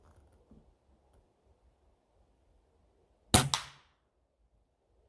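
A BSA Meteor Mark 1 air rifle fires a single sharp, close crack followed by a quick pellet impact in quiet woods.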